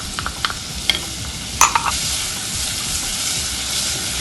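Onions and garlic sizzle in a pan for pumpkin rice, a dense steady hiss up close, with a few light clinks and stirring knocks near the start.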